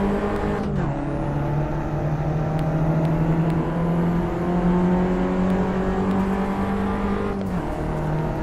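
Race car engine in the sim racing game Assetto Corsa, a loud sustained drone whose pitch climbs steadily under throttle. It dips sharply at a gear shift near the start and again near the end.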